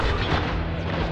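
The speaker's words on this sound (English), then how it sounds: "Oh, nice grenade." A grenade detonating in the shooter game Spec Ops: The Line, a loud, close, dense boom that fills the whole moment with rumbling blast noise.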